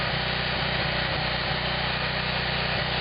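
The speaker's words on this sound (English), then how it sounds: "start up the generator so that we can drive this tie in" A portable generator on a construction job, powering a hammer drill for driving a tie, drones steadily at a constant loud pitch throughout, close by with no talking.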